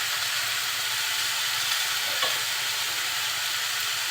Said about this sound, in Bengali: সব কিছু খুব ভালোভাবে নাড়াচাড়া করে খুব অল্প সময়ের জন্য একটু ঢেকে দিব।